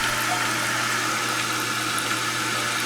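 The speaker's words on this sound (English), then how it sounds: "turn this valve counterclockwise, cut the water back on. This thing starts filling." Toilet tank on a 2011 Aqua Source toilet with a rebuilt 3-inch flush valve refilling after the supply valve is turned back on, a steady close hiss and rush of water running without pause.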